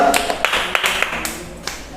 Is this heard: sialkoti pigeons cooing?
no